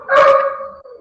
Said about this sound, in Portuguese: Até os meus cachorros estão participando.